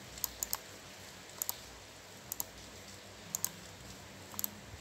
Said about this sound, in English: You have to type your company name.